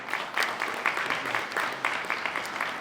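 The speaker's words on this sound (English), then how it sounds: "Hand of applause one more time." Audience at a candidates' event clapping together, a dense, steady patter of many hands at moderate distance that holds at an even level throughout.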